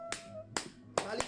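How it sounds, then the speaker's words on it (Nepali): Hands clap during an immunity exercise session, four sharp separate claps at an uneven pace, faint under a soft speaking voice. "यसरी चाहिँ ताली ठोक्नुस्"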